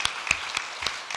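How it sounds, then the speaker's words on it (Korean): Church congregation applauding during an Easter Sunday service, a soft, diffuse wash of many hands with a few distinct claps at a slow, irregular pace, heard from some distance. "우리 부활하신 예수 그리스도께 우리 영광과 감사와 찬양의 박수를 올려드리십시다"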